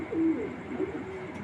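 Pigeons coo softly at close range, a low pulsing call rising and settling twice in quick succession over steady background hiss, in a racing pigeon loft.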